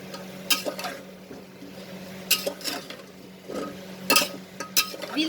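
Potatoes and green chilies being sautéed in a pot for beetroot chicken soup, a low sizzle under intermittent clinks and scrapes of a utensil against the pot, coming in short bursts.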